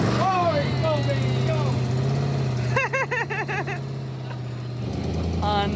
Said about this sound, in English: Listen to that exhaust leak.